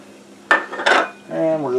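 Burger patties with a little butter go down onto a non-stick griddle in two quick, close thumps with a light utensil clatter, followed by a brief steady tone.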